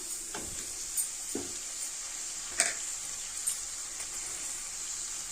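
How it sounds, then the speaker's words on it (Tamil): Chopped tomatoes and onions sautéing in a pan for a traditional Kongu-style tomato kuzhambu, a soft steady sizzle broken by a few sharp stirring clinks and scrapes. "இப்போ இதையும் வந்து வெங்காயத்தோடு நல்லா வதக்கி கொடுத்துக்கலாம்"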